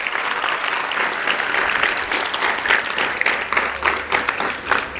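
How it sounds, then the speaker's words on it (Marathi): An audience at a lecture claps loudly and steadily in a dense burst of applause lasting several seconds. "एकदा जोरदार टाळ्या वाजवा"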